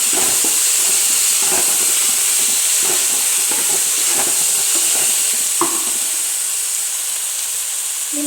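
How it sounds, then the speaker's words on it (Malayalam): Tomatoes and curry leaves stirred into a chicken gravy in a hot pan, with a constant loud sizzling hiss and soft irregular scrapes of the spoon. "അതിലേക്ക് പിന്നെ തക്കാളിയും കറിവേപ്പിലയും ചേർത്ത് കൊടുക്കാം നന്നായി ഇളക്കി കൊടുക്കുക"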